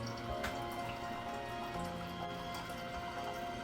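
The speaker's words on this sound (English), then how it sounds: "The coffee pot's so loud I can't even hear." A coffee pot brewing nearby, a quiet steady gurgle and hiss with scattered soft drips in a kitchen.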